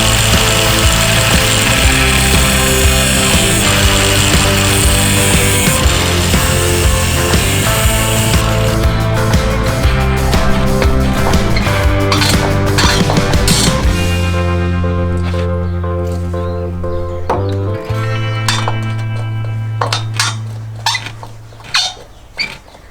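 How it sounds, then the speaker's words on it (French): A power tool cuts a slot into the head of a stuck screw, giving a loud, close, whining metallic grind with shifting pitch that eases off partway through into a lower hum and then a few sharp clicks. "je vais essayer de faire une fente au milieu de la vis pour pouvoir essayer de les prendre avec un tournevis plat"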